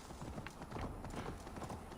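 Horse hooves clip-clopping in Assassin's Creed Valhalla, a quick steady trot of crisp repeated hoof strikes, moderately close and fairly quiet, with no talk over it.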